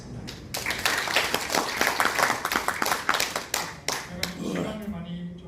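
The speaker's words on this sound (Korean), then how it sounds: "이일걸 회장님의 발표에 대해서 감사의 박수 드리겠습니다." Applause from a seminar audience on Korean colonial-era history, thanking a presenter after his talk; dense clapping for several seconds that thins out near the end, with speech audible underneath.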